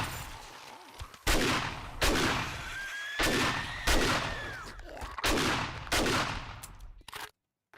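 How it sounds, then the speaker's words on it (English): Auto shotgun blasts in the zombie survival game 7 Days to Die, fired solo at a rushing horde of feral zombies: about six loud, evenly spaced booming shots with short gaps, each trailing into rumble, and faint creature cries between. "watch this as I solo every one of these mobs with the auto shotgun"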